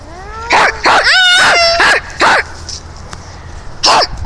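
A dog gives a series of sharp, close barks and yips mixed with whimpers, about six bursts spaced unevenly with short quiet gaps between them.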